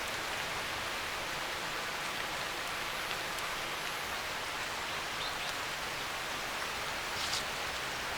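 Monsoon rain falls on an Indian forest at the start of the rainy season. It makes a dense, even hiss of drops on leaves that goes on without a break and without voices.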